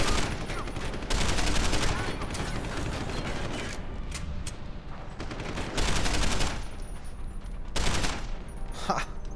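Gunshots in the video game Deus Ex: Human Revolution, dense bursts of loud automatic fire that come in waves, with brief lulls between volleys and mechanical clatter.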